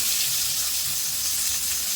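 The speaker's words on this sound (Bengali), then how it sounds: "যে পেঁয়াজটা হালকা লাল করে ভেজে নেবো" Chopped onion frying in hot oil in a kitchen pan, a loud continuous close sizzle with a soft crackling hiss and no voices.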